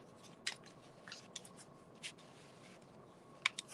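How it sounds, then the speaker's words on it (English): Scissors poke through a paper bird mask, producing several faint, sharp crunching and snipping ticks spaced irregularly in a quiet room. "Okay, just use my scissors."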